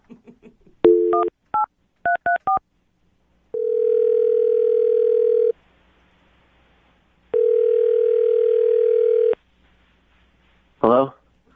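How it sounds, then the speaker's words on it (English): A string of telephone keypad tones beeps in quick succession, followed by two long ringback tones separated by silence, then a brief click. "I'm going to dial his phone number right now and see if we can get him on the phone"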